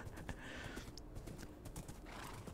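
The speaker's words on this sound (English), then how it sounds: "What do I do with the horse?" A horse in Minecraft Lifesteal clip-clops along and gives a neigh, game hoof steps tapping in a quick rhythm with the whinny rising mid-clip, all fairly close and without talk.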